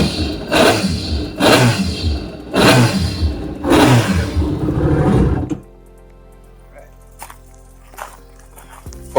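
A 2017 Yamaha EX personal watercraft engine runs loudly in rhythmic surging bursts for about five seconds, then cuts off, leaving a faint low hum with a few soft knocks.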